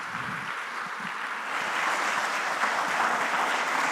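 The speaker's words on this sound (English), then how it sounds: "let's give him a round of applause." A conference audience applauds a speaker being invited to the stage, steady mid-distance clapping that swells slightly partway through.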